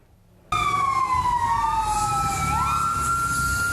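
A fire engine siren wails loudly and steadily at a building fire at a quarantine hotel in Changhua, Taiwan, starting abruptly, its pitch sweeping down then jumping back up over a low rumble of traffic.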